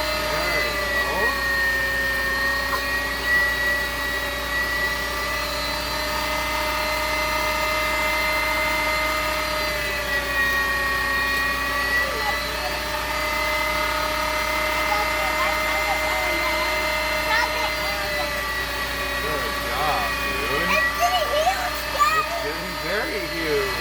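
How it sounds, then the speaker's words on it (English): An electric meat grinder hums with a steady, whining motor drone as meat for droe wors sausage goes through it. The sound holds constant and close throughout. "Put it in the grinder."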